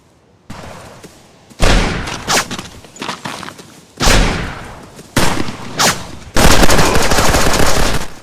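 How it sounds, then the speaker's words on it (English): Rapid bursts of gunfire from the video game Lifeless, loud and close, with several automatic volleys separated by short pauses and a sustained final burst, no voices. "Hearing gunshots and footsteps from other players will be vital for survival"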